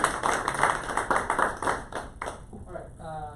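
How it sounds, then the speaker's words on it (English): Brief applause from a small group at an AI tinkerers meetup, a few people clapping for a couple of seconds before it dies away and a voice starts talking. "give a round of applause for that"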